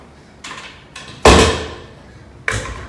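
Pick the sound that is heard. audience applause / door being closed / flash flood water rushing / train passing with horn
door being closed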